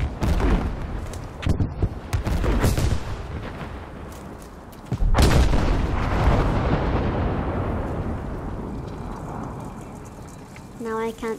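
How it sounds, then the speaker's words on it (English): A loud explosion in Battlefield 5 booms and rumbles, then a second heavy blast hits midway and fades into a long noisy roar, with voices talking over it. "There's the big explosion."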